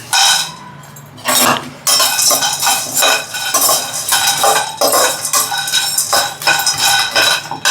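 Garam masala spices dry roasted in a pan without oil, with loud, close metallic scraping and clinking of a spoon against the pan in quick irregular bursts, plus faint crackling, no talking.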